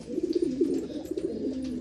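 Pigeons cooing in a loft, one of three birds kept for sale: a close, steady run of low, throaty coos repeating in soft rolling bursts with no one talking.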